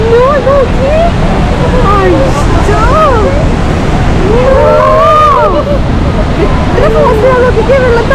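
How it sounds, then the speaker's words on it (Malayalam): Water of Niagara Falls crashing down, heard from aboard the Maid of the Mist tour boat: a loud, steady broadband roar with wind buffeting, while several voices talk and call out over it throughout. "നോക്കിക്ക് വെള്ളം താഴേക്ക് വീഴണതല്ലേ"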